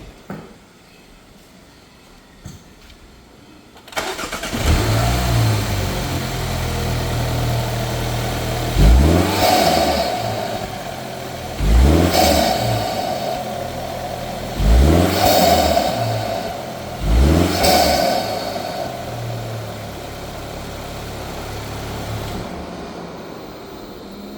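A 2024 MINI Cooper JCW fitted with an Eventuri intake idles close by, then revs hard four times in steady succession, each sharp rise falling back to idle, with no talk.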